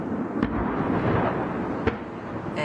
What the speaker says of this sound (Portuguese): Vamos ouvir mais um pouquinho que a gente consegue ouvir esse som das bombas.